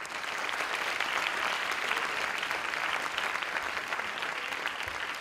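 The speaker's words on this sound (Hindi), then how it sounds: "ताली मार।" Steady applause from a large audience at an event with about 700 special children, dense clapping that holds loud and even throughout with no voices over it.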